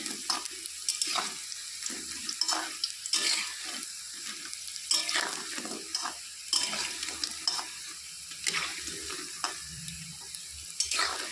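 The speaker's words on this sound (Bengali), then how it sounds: "এইভাবে খুন্তি দিয়ে উল্টে পাল্টে ভালো করে ভেজে নিচ্ছি" Cauliflower pakoras crackle in hot frying oil while a spatula turns them, so the close sizzle comes in uneven bursts with brief scrapes and quieter gaps.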